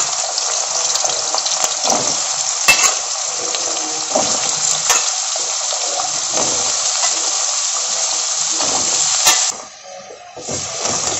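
Potatoes deep-frying in a wok of hot oil already used for frying papad, a dense steady sizzle and hiss close up with occasional sharp crackles, dropping away abruptly near the end.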